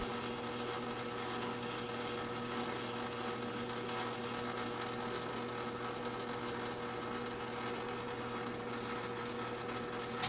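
A metal lathe runs a boring bar inside a drilled hole while machining a fly cutter, giving a steady droning hum with a faint cutting hiss throughout and no talking.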